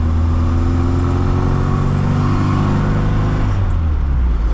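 A 1965 Austin Mini Cooper S engine drones steadily and loudly from inside the car as it drives, with low harmonic bands rising and easing through gear and throttle changes before settling near the end.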